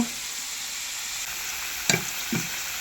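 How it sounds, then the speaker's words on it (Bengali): Potatoes frying in hot oil give a steady, soft sizzling hiss throughout, broken near the end by two brief clinks of a utensil against the pan. "আলু ফ্রাই করে নিচ্ছি"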